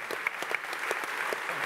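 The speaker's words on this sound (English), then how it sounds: "Round of applause for the anniversary update" Audience applause at a Frontier Expo 2017 event reveal of the Planet Coaster anniversary update, a dense, steady wash of many hands clapping throughout.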